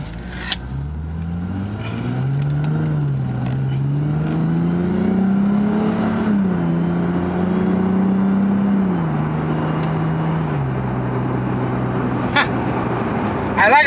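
A Lexus IS350 fitted with a Joez catback exhaust drives along, its deep, smooth engine drone steady and close as revs rise and fall gently, with no rasp.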